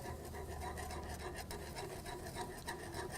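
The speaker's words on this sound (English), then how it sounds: "And whisk it as this is going in, otherwise it's going to clump." A whisk scrapes and rasps steadily in a saucepan as Swerve sweetener goes into the mixture for mint chocolate chip ice cream, faint and close with quick rubbing strokes.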